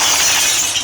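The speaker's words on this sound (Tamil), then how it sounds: "இப்போ கண்ணாடி சுட போறோம்." Glass shatters in one short, bright, noisy burst that fills the moment and decays slightly at the end, with no talking over it.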